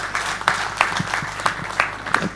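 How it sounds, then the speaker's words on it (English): Applause from an audience at an awareness program, thin and scattered with individual claps standing out in a loose rhythm, moderately near and steady for a couple of seconds. "One more round of applause to these people."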